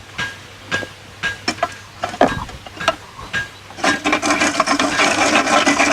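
A wood grinder at an outdoor pioneer festival chews through chunks of wood, starting with scattered knocks and scraping rasps that build into a dense, continuous grinding roar in the final seconds.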